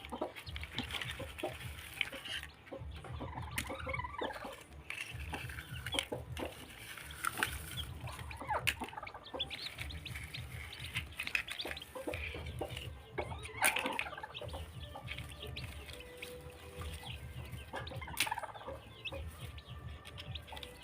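Newly hatched chicks peep continuously in a busy, overlapping chorus, with occasional hen clucks and rustling of sand and straw nearby.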